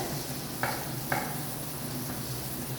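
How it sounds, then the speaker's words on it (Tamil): Beans and carrot mix sautéing in a pan, with a steady soft sizzle throughout and two brief clinks of a spoon against the pan. "ஓகே, நல்லா வதக்கிடுங்க."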